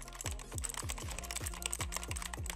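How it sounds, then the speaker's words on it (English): An inexpensive AliExpress mechanical keyboard costing about 36 pounds is typed on close up, its keys clacking in a quick, steady rhythm with sharp, bright strikes. "It's really not a bad mechanical keyboard"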